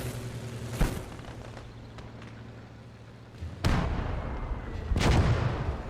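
Artillery fire in the WWII strategy game Gates of Hell: Ostfront, with an 18-pounder field gun: a distant boom near the start, then two heavy, close blasts with rumbling tails near the end, over low battlefield ambience.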